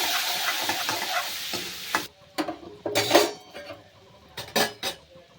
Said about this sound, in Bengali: একটু লঙ্কা গুঁড়ো এর মধ্যে দিয়ে দেবো একটু মাংসের জল দিয়ে মশলাটা ভালো করে কষিয়ে নেব